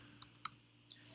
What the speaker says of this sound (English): just type in guide, hit enter